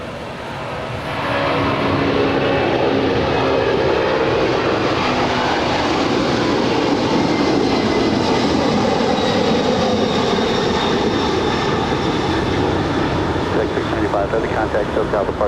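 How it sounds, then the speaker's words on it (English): A 30-year-old FedEx MD-11 jet takes off at LAX, a loud, steady roar that swells after the first second and holds strong throughout, with faint voices underneath. "This is a 30-year-old MD-11 heading to Memphis, flight 695."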